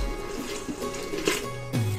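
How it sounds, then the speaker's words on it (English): Warm milk pours from a saucepan into a bowl, a soft liquid splash and trickle that runs nearby for about two seconds, growing a little fuller toward the end. "Then pour it into the bowl"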